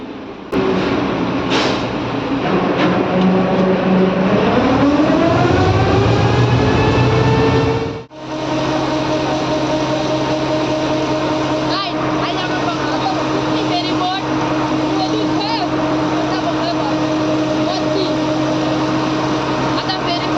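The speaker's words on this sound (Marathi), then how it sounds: "यो फेरी बोटी तो मोटर बघा खूप पॉवरफुल आहे." A powerful ferry boat motor runs with a loud, steady drone that climbs in pitch, drops out briefly, then settles into a constant rumble while people talk over it.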